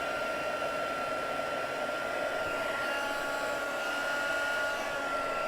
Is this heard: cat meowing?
no